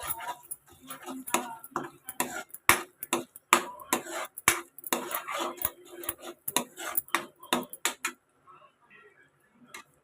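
Spoon stirring coriander powder and chili powder in a pan for Telugu-style Mughlai egg curry, a busy run of close sharp clinks and scrapes for about eight seconds, then near quiet.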